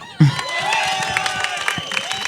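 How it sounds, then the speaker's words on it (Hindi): Applause and cheering from an audience at a Bollywood film trailer launch event, a sudden burst of clapping and whoops that stays steady and loud for the rest of the short stretch. "पिंक विला से तालियां"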